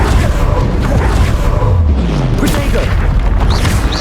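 Bombarda explosion spell in Hogwarts Legacy combat, a loud deep boom with rumbling blast layered into busy game battle noise, several heavy impacts in quick succession.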